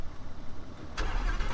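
A Lamborghini Huracan EVO RWD Spyder engine starts with a sudden loud bark, then settles into a throaty rumble that continues to the end.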